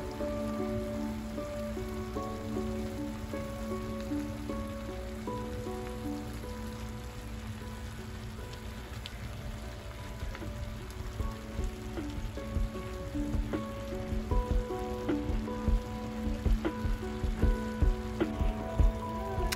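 Pork stir fry sizzling in a pan as a whole brick of tofu goes in, a steady crackling hiss with denser popping and spattering toward the end, close and fairly loud with no talk.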